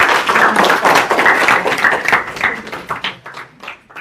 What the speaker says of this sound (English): So can we give Pastor Shaun a warm round of applause?